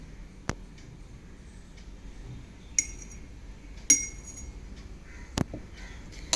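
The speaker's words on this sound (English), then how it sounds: "See, I am mixing it, but the oil is not mixing with it." Oil and water stirred in a glass: a few sharp, separate clinks of a spoon against the glass over a soft, quiet background, with no talking.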